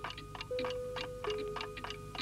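Several clocks tick together in a room, a quick overlapping ticking pattern of crisp regular beats with a faint sustained tone beneath, no speech.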